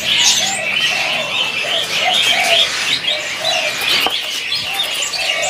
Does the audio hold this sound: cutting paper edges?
no